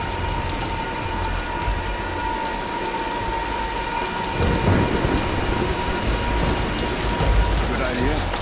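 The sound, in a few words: thunderstorm with rain in the video game Tomb Raider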